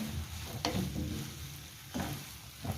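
Cumin being stirred into a potato and egg curry frying in a pan: a low bubbling sizzle with a few sharp scrapes of the spoon against the pot, close and moderately quiet.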